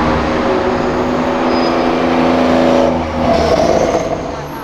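A Porsche accelerates past on a street, a loud, close engine roar that builds, dips briefly, then surges again before easing off, with no voices.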